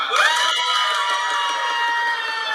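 A class of schoolchildren shouting a cheer together during a lesson, a loud sustained chorus of voices rising at the start and holding steady for a couple of seconds.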